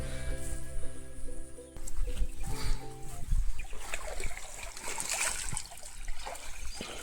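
Water pumped from a farm well pours into a cool village stream beside a fruit orchard, a steady trickling and splashing flow that stays close and continuous throughout, with low hum and background noise underneath.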